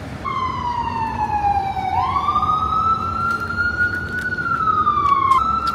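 A wailing street siren in New York City sweeps down and back up in pitch, loud and close over steady traffic rumble, with no one talking.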